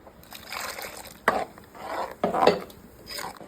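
Water goes into a simmering pan of ground masala paste for mor kuzhambu, a Tamil buttermilk curry, with faint liquid splashes, a couple of metallic clinks and soft stirring, all fairly quiet.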